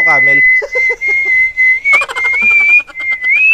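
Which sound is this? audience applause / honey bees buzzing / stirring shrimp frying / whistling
whistling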